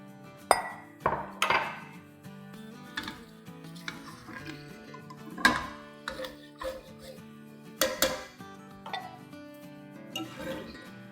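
Sooji roasting with besan and ghee in a pan, heard as scattered metallic clinks and scrapes of a spoon against the pan at irregular intervals, fairly close and moderately loud, with no talking.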